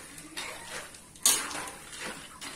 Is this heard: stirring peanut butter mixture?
yes